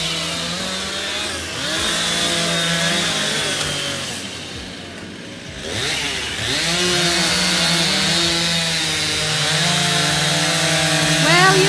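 A chainsaw runs steadily while cutting trees during a yard cleanup, its engine droning and revving near and loud for most of the stretch, dipping briefly in the middle before roaring back up.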